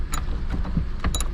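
Small screws being snugged into a Hyundai Elantra tail lamp housing: a few brief, faint creaking and clicking mechanical ticks, spaced irregularly over a low background hum.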